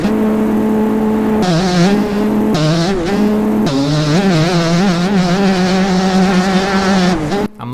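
Motocross bike engines race in the MX Bikes video game, a loud, buzzing high-revving whine that climbs and drops with each gear change and throttle shift, continuous and close, ending in a brief cutoff.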